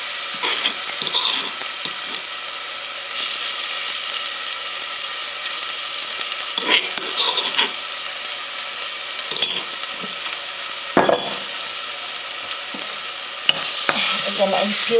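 Mint, garlic and chili frying in hot oil for pork adobo, a steady bright sizzle with occasional louder crackling surges and stirring clatter, no speech.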